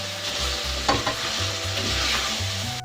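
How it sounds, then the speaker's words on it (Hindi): Potatoes and eggplant fry with red chilli powder, turmeric and salt while a spoon stirs them in the pan, with a continuous close sizzle broken by scraping stir strokes, and no talking. "मसाले डाल के मिक्स कर लिए मैंने"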